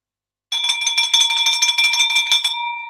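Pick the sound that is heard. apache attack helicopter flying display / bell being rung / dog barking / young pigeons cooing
bell being rung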